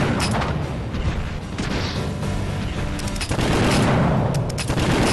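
Heavy mecha gunfire in the Nintendo DS game Super Control Mecha MG, a dense, loud fusillade of rapid shots and booms running throughout, with a burst that swells again in the second half.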